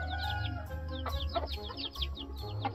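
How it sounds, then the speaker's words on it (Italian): Hens in a scene cluck and chatter, with a rapid run of close clucks over a steady low hum. "E qui poi, in mezzo alle galline."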